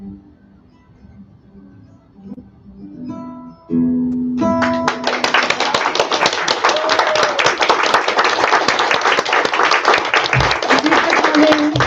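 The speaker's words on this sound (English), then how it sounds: "One more round of applause for Deborah" Audience applause for poet Deborah Stokol at a livestreamed MYTHOS event, bursting in after a brief spell of quieter sound and then holding loud, dense and steady right to the end.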